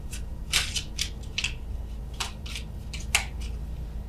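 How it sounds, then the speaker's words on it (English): Tarot cards shuffled slowly by hand, giving soft, irregular papery riffles and flicks with a few sharper snaps, close and quiet over a low steady background hum. "apologies for the shuffling here. It's obscenely slow"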